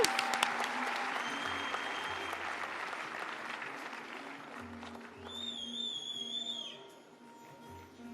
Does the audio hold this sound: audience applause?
yes